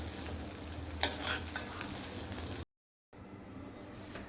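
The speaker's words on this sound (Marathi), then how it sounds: "बटाटे आपले छान फ्राय करून झाले, ते देखील मी आता एका भांड्यामध्ये काढून घेते" Fried potatoes for a green bean stir-fry scraped out of a pan into a bowl, with faint sizzling and a few spoon scrapes and clinks, then a short silence and quieter kitchen noise.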